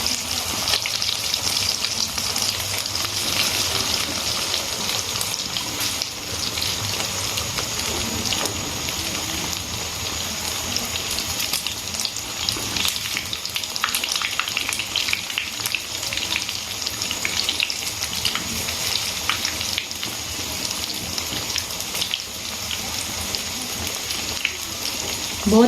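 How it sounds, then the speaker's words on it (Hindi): Chicken aloo bread rolls frying in hot cooking oil in a pan, a loud continuous crackling sizzle with dense popping that holds steady throughout, close and without talk. "तो चलें फ्राई करना स्टार्ट करते हैं। मैंने एक पैन लिया है, इसमें कुकिंग ऑयल डाला है, गरम हो गया है।"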